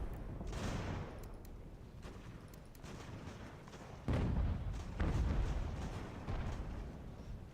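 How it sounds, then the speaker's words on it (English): Musket volleys crackle in Ultimate General: American Revolution, a battle at Boston, as rolling bursts of massed gunfire with distant booms, one swelling wave near the start and heavier overlapping volleys in the second half. "One more volley and that enemy artillery might be done."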